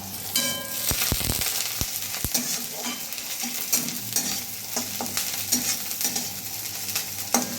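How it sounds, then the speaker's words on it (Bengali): Onions fry in a pan until reddish, a steady close sizzle broken by frequent spatula scrapes and sharp clinks against the pan. "পেঁয়াজটা লাল লাল করে ভাজা হয়ে গেছে"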